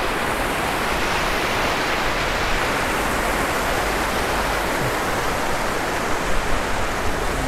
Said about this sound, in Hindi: पानी का शोर देखेंगे कितना ज़्यादा